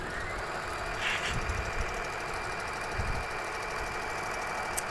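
A Juki HZL-7800 sewing machine runs steadily, its motor giving a continuous close mechanical hum and fine rattling throughout, with no voices.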